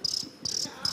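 A person imitates a cricket, giving three short, high, shrill chirps in an even rhythm, close and clear with no other sound.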